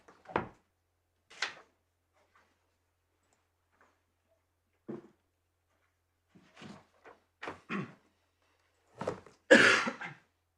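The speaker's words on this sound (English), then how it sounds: "whilst I clear my throat" In a courtroom, a lone person clears their throat and coughs in short, scattered bursts separated by quiet pauses, the last one loudest.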